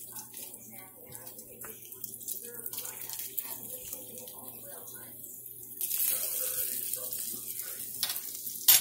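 Bacon and sausage frying crispy in a pan, a steady low sizzle and crackle running throughout, swelling louder near the end with a sharper hiss.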